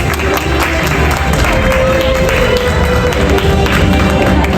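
Applause from an audience at an awards ceremony honouring the year's top YouTuber, dense continuous clapping filling the room at a loud, even level with no break.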